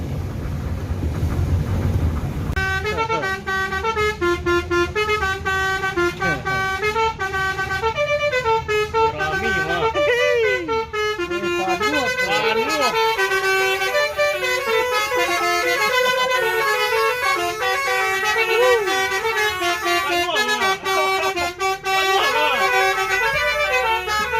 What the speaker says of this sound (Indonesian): Jadi klakson Baisuri ini ada 18 macam semuanya.